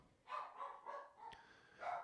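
A dog barking in a home: about four or five moderate, slightly hoarse barks spaced out at an irregular pace, with a sharp click partway through and no talking.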